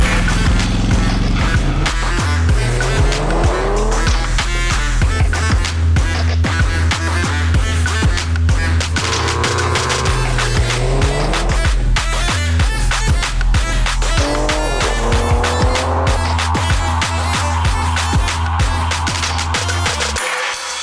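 A Ford Mustang Mach 1 V8 drives off and accelerates hard, with a loud, continuous engine roar that climbs in pitch through several gear changes and stays close throughout.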